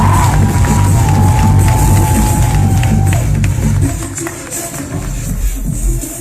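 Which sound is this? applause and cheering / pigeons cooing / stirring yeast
applause and cheering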